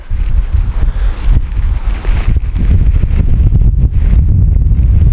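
Strong outdoor wind buffets the microphone in loud, continuous low rumbling gusts that roar throughout, with no speech.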